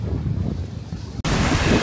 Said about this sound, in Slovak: Tak neviem, či ma budete počuť v tomto vetre